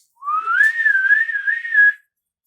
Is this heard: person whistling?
yes